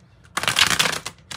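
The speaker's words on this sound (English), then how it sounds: "I didn't shuffle real well. I got a card stuck in there." Osho Zen tarot cards being shuffled close up: a dense burst of riffling and papery slapping lasts about two-thirds of a second, then a shorter flick follows, with no talking.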